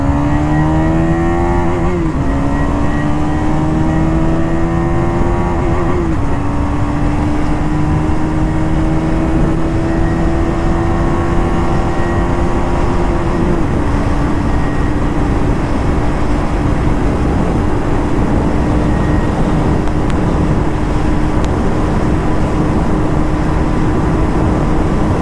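KTM Duke 250 BS6 motorcycle pulling hard in sixth gear on an open road, engine note rising steadily over a long stretch, loud and close with heavy wind rush and crosswind buffeting throughout.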